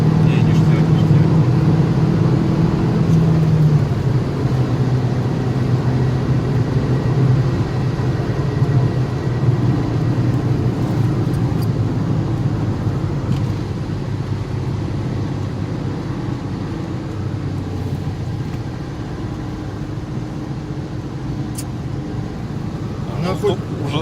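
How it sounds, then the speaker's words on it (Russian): Engine of a chipped Tagaz Vega C100 car drones loudly and steadily from inside while driving, with road noise throughout and a slight easing toward the end. "Движок-то ревет"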